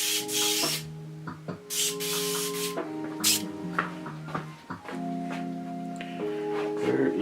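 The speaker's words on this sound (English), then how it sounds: "we'll grab the older airbrush" An older airbrush spraying paint in short, close hissing bursts, separated by pauses, over a steady tonal background hum that runs throughout.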